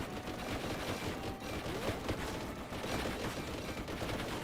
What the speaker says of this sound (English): we have one of these artillery things.